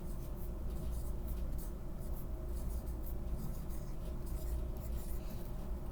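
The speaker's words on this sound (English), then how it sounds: "And I'm gonna go ahead and write it here." Steady scratching of a pen being drawn across paper by hand as a pentagon shape is written out, a close, continuous rasp against low background hum.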